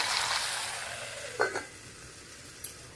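Eggplant (brinjal) cooks in a pan with a soft, fading sizzle, followed by a couple of brief utensil clinks and stirring scrapes, fairly quiet and close.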